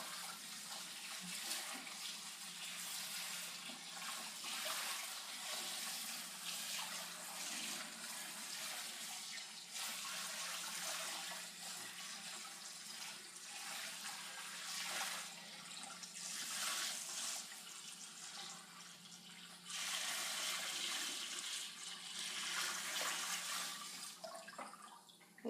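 Saltwater pours slowly from a bucket into a 29 gallon reef tank, a steady, close rushing splash of water that carries on for the whole stretch, swelling and easing slightly, with no talking.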